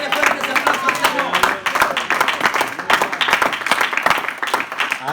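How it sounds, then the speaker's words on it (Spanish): A church congregation claps loudly during a Spanish-language sermon, sharp irregular hand claps crowding together while voices and shouts ring out over the clapping. "Denle fuerte ese aplauso al Señor."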